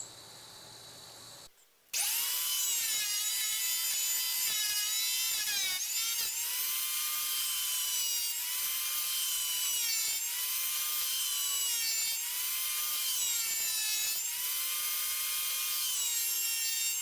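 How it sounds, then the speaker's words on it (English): Planer skip-planing rough wood strips cut from flat stock, starting abruptly after a short quiet lead-in, then a loud continuous high whine with repeated dips and surges as each strip feeds through. "So we're just going to skip plane these, try to get a smooth side on them."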